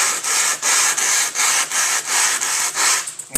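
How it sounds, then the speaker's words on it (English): Rough sandpaper rubs back and forth on a tractor generator part, with loud, close, rhythmic scratching strokes, about eight passes in steady succession. "this sandpaper is pretty rough"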